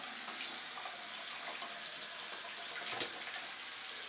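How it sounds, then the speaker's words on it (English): Water running from a tap over a makeup brush at a sink, a steady, fairly soft splashing hiss with small irregular spatters, heard close and without voices. "I'm going to run a little cold water in here too"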